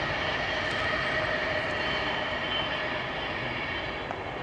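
An oncoming train on the West Coast line rushes past the other way. A dense, steady roar fills the whole stretch, heard close by with no voices over it.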